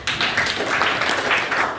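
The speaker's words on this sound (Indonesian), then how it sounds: "Beri tepuk tangan" A group clapping hands in a classroom, a short burst of dense, close applause lasting under two seconds.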